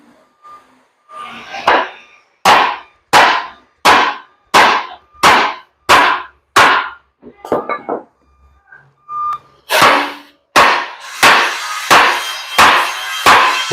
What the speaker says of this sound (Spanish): con la maceta, voy a ajustar un poco más esa lámina